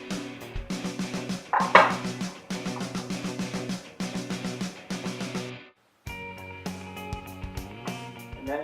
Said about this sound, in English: I'll grab this spoon and just mix that together so everything is incorporated